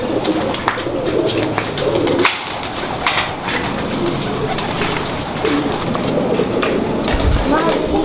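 Pigeons coo in a pigeon-keeping setting, soft repeated cooing calls mixed with wing and handling noises, while someone talks nearby.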